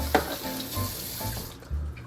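Tap water running over a small piece of ginger at a kitchen sink, a steady close splashing stream that cuts off near the end, no talking.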